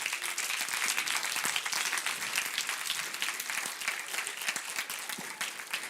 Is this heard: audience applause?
yes